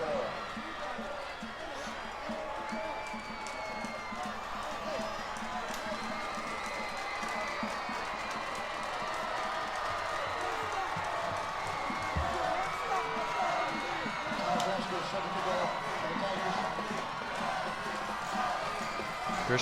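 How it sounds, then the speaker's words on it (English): A crowd at a 2016 high school football game between Hahnville and Destrehan makes a steady roar with scattered cheers in the background, while a commentator talks over it throughout. "And this crowd is electric."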